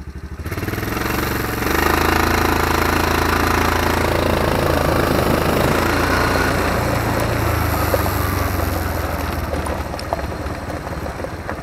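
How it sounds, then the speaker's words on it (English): An upgraded go-kart engine runs steadily and fairly loud while the kart is driven outdoors, its drone holding constant with slight shifts in pitch and no voices. "this new go-kart here is much quieter and it's a whole lot faster"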